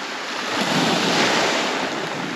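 Sea waves wash steadily onto a beach on a foggy morning at Lazarevskoye, a loud, continuous surging roar with gusty wind noise over the microphone and no voices.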